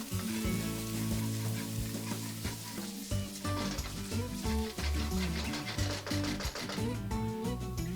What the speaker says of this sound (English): 2 stems curry leaves and fry it until the garlic is nice and brown